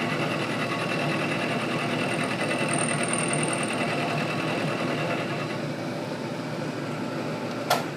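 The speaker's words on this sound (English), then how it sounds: "we'll climb mill very slowly without touching anything," A milling machine takes a slow climb-milling spring pass, giving a steady, even mechanical whir and hum with no talk, ending on a brief sharp click.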